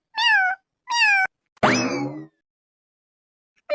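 A cat meows three times nearby, two short mews then a longer drawn-out cry, with silent gaps between and a fourth starting at the end.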